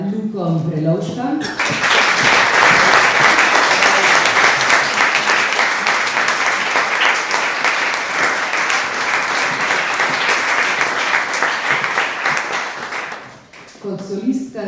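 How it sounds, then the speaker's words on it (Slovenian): Loud, dense applause from an audience at a mixed choir's annual concert in a cultural hall, greeting a soloist; a speaking voice comes before and after about twelve seconds of steady clapping. "Aplavz za Tinkaro Kovačič, pa aplavz za Luko Prelov"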